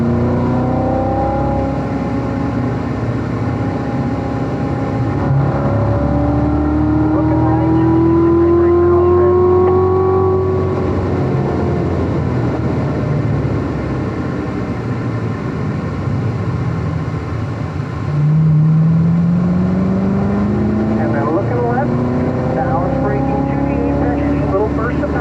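A Z06 race car accelerates hard out of a corner on track, its engine note rising through the revs and then dropping with a gear change before climbing again, loud and close. A voice talks over the engine.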